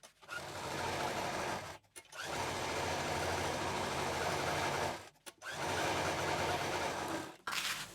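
An electric sewing machine stitching along a shaped handbag panel, running in three long continuous bursts of fast, even whirring with brief stops between them, close and clear.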